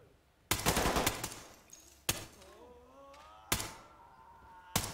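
Four sharp, loud gunshots from the tactical shooter Ready or Not ring out at irregular intervals, each followed by a decaying echo and faint mechanical clatter in between.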